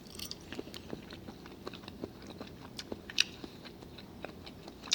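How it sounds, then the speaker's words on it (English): Shrimp, served alongside shrimp and grits, being bitten and chewed up close, with a run of soft, irregular crunchy bites and mouth sounds and no talking. "Let me taste actually the shrimp itself."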